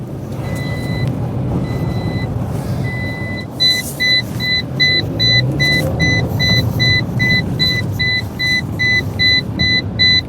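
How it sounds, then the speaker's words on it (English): A Toyota Aygo's seatbelt warning chimes inside the cabin over a low engine rumble, a few spaced beeps at first and then a fast, insistent run of regular high beeps, loud and close. "that beeping noise going on, telling me to put my seatbelt on"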